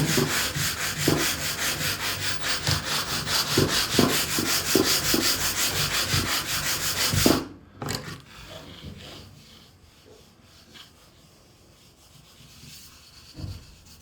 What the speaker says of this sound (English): And now I'm just going to lightly sand it to finish it off.